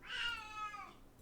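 A cat gives a single drawn-out, whining meow, clear and close, with no talking over it.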